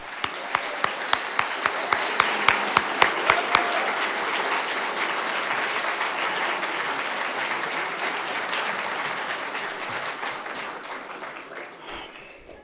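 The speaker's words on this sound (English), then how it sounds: "please give a huge round of applause for the indomitable" A conference audience gives a long round of applause, opening with a few distinct rhythmic claps that merge into sustained dense clapping before tapering off near the end.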